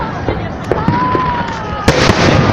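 Fireworks burst over a Voronezh city day celebration, several sharp pops and cracks including a loud bang near the end, heard from a distance amid crowd chatter and nearby talk.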